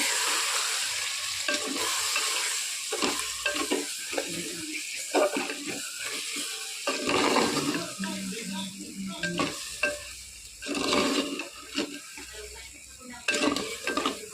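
Chicken frying with garam masala in a pan, a loud steady sizzle broken by repeated stirring scrapes and clinks of a utensil against the pan, with brief bits of speech.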